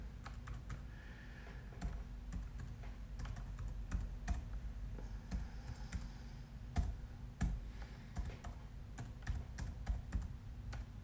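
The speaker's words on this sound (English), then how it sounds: "I think I can type it in." Steady typing on a computer keyboard fills the room, with rapid irregular key clicks and occasional louder strokes over a low constant hum, no voices present.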